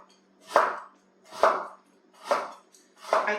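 A knife slices through sweet potato into thin rounds, four distinct crisp cuts at an even, unhurried pace, close and alone.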